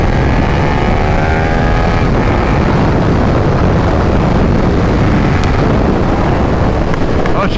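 A 2022 KTM 1290 Super Duke R accelerates hard out of a turn, its engine note rising under loud, continuous wind roar from an onboard rider's microphone.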